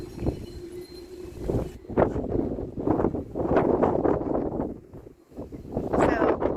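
Gusty wind buffets the microphone in rumbling bursts in a garden, with a voice speaking underneath.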